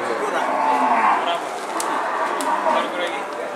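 Cattle low and moo at a rural livestock market selling thin cows, the calls close and drawn out, with people talking nearby.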